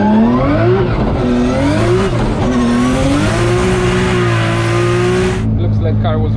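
A drift car engine, running rich, revs hard and steadily at close range at a Drift Masters event in Riga, a loud sustained roar with rising and falling pitch before cutting off abruptly.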